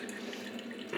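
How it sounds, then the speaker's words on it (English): Fresh coffee trickling from a Ninja coffee maker, a steady close liquid splatter and drip into the pot that holds for the whole second, with no talk over it. "at that beautiful drip"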